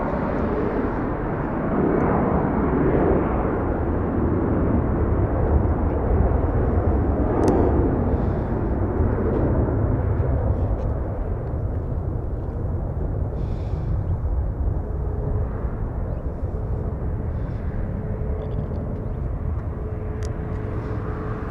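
A jet airliner departs LAX with a loud, sustained broadband engine roar that holds steady and close throughout, then eases slightly as it climbs away.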